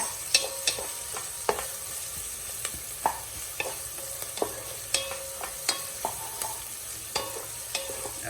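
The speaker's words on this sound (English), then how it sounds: "We added in onion first because garlic burns faster." Finely diced onions fry in a pan for homemade marinara sauce, a soft steady sizzle broken by regular sharp clicks and scrapes of a utensil stirring against the pan.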